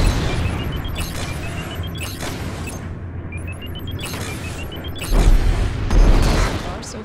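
Missiles launch and explode in Strike Suit Zero, with tonal beeping sweeps and whooshes leading into heavier booming bursts near the end, while a voice talks over it.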